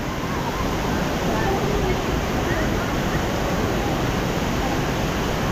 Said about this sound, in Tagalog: Grabe yung lagaslas ng tubig oh.